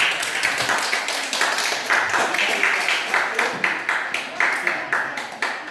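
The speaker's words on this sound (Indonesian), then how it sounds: "Oke, tepuk tangan untuk kelompok 1." Classroom applause for a student group after their presentation, a small class clapping steadily and close by with dense overlapping claps for several seconds, a faint voice or two mixed in.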